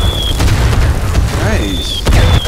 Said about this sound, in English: they're mortaring us